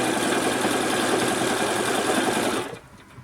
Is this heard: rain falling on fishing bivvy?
no